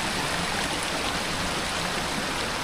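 Water rushing steadily at Aw-asen Falls, a dense continuous broadband roar of a stream or waterfall up close, loud and unbroken with no voices.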